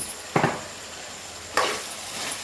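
Chicken pieces tossed with salt in a pan, with two distinct scraping stir strokes over a soft, steady sizzle; close and fairly quiet, no voices.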